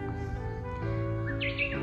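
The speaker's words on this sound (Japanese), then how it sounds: "ウグイスも泣いて応援してくれています" A Japanese bush warbler sings in a garden where rosemary cuttings are being planted: a brief, clear whistled phrase rises near the end over steady low background hum, with no talking.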